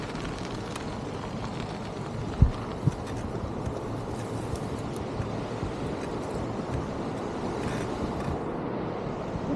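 A small waterfall gives a continuous broadband rush of falling water outdoors, steady and moderately loud, with a couple of brief thumps, wind buffeting and no speech.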